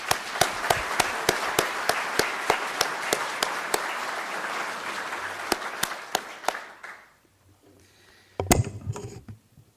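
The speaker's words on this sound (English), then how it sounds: "why don't we give Ralph a round of applause" Round of applause from an audience at a community event, led by sharp, evenly spaced claps from one nearby clapper over softer crowd clapping, dying out after about seven seconds, followed by a brief thump.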